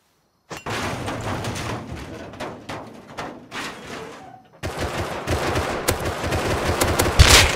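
Automated shotgun trap in the survival game Rust firing repeatedly inside a trapped base, a fast run of gunfire bursts that grows louder and denser toward the end, with no talking.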